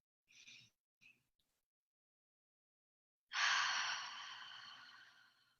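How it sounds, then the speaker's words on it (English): Slow, deep breathing: two short audible inhales are followed after a pause by a long, airy exhale that gradually fades, close and soft, with no talk. "you'll breathe in through the nose and out through the mouth"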